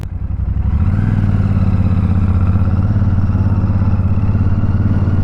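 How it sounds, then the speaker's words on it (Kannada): Royal Enfield Shotgun 650 twin with a double-barrel exhaust starts and settles into a loud, steady, deep idle burble close by, with no speech over it. "ಸಖತ್ತಾಗಿ ಕೇಳ್ತಿದೆ ಎಕ್ಸಾಸ್ಟ್ ಸೌಂಡು."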